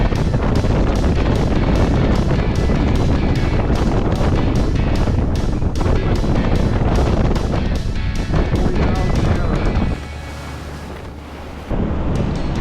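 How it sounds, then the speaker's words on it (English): Strong wind roars outside the Viking Polaris expedition ship during a rough Drake Passage crossing, a loud, continuous buffeting rush with repeated gusts that dips briefly toward the end. "It was really quite windy and wild outside."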